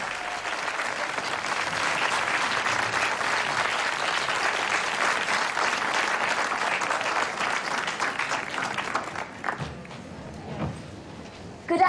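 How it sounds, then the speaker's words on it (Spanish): An audience at a technology talk gives a speaker a sustained round of clapping, dense and even for most of its length before thinning out into a few scattered claps near the end. "Un aplauso para Joan."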